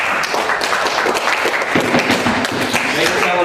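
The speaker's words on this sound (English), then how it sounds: "Round of applause to all of you." Scattered audience clapping at a fan convention panel, a steady patter of many hands filling the room for a few seconds, with voices murmuring underneath.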